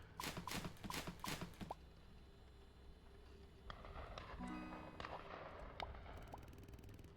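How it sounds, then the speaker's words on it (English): A rapid series of about five sharp gunshots cracks out at the start, then quieter electronic tones and a faint background hum follow. "I heard gunshots."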